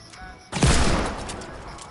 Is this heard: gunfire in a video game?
yes